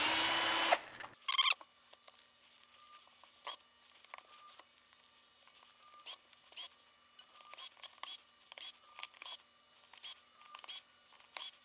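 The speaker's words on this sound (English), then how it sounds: "take off all these screws on the bottom" Power drill backing out screws from the underside of a Traxxas Sledge RC truck chassis: short bursts of whirring with small clicks and pauses between screws, close up, no talk.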